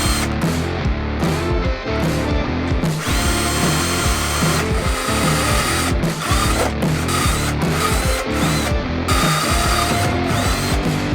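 A power drill bores holes for a solar panel mount on a Subaru Forester, its motor buzzing loudly in repeated bursts with short stops and ratcheting clicks between runs.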